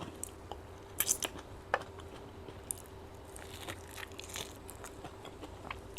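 Close, soft chewing of stir-fried chicken wings with basil: quiet wet mastication with a few sharper bites and crunches scattered through.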